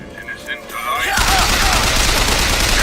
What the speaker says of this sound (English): And now I can take over that turret.